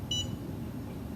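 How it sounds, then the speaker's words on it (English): A single short electronic beep from a button press on an MM-600 VacuTherapy machine, clear and brief over a steady low hum. "you can just hold the button so it doesn't keep beeping at you"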